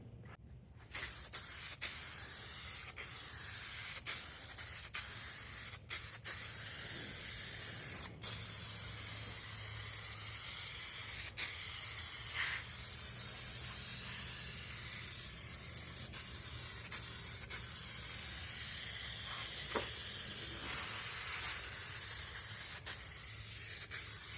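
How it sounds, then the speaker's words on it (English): A spray gun steadily applies E-coat primer to a Pontiac body under restoration, giving a loud, continuous close hiss broken by brief pauses and restarts as the trigger is released and pulled again. "I think I'm gonna throw a little E-coat on the back just to make sure she don't rust"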